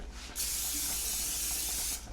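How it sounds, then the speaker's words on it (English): Cooking spray hissing onto a baking pan slightly smaller than 9x13 in a home kitchen, one steady close spray lasting under two seconds over quiet room noise. "I am going to spray a pan"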